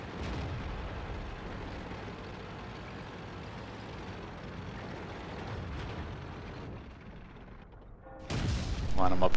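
A Cromwell tank in World of Tanks rumbles along with a low engine drone, then its cannon fires near the end in a sudden, loud, close blast that rings on briefly.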